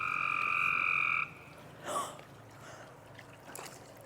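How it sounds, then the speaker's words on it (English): A frog lets out a loud, sustained croaking call near a backyard swimming pool being opened for the season, followed by a few softer splashy and breathy noises; no talking. "There's a frog."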